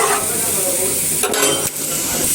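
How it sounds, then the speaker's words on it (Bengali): Water goes into a hot pan of tomato fish curry, setting off a loud, steady hiss and sizzle that is briefly broken by two quick stirring scrapes. "এই যে জলটা দিয়ে নিচ্ছি"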